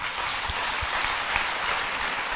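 Audience applause at a Hindi religious discourse hall, a steady dense wash of many hands clapping together, sustained and fairly loud throughout with no talk over it.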